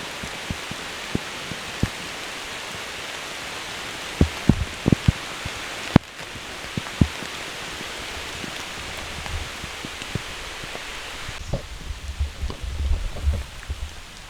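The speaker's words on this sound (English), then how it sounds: "Here's the downpour." Steady rain pours down at a kayak campsite during a thunderstorm in a constant hiss, with scattered sharper drops and taps landing close by throughout.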